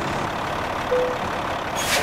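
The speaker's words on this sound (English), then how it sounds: "Like the idling sounds, I think, are pretty good." A steady, broadband engine rumble from a 1020 hp Kenworth truck in Euro Truck Simulator 2 idles continuously with no speech, a faint hiss rising near the end.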